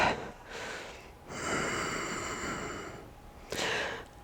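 Slow, deep breaths during a yoga pose: a long audible inhale and exhale through the nose, close and clear, followed by the start of another breath.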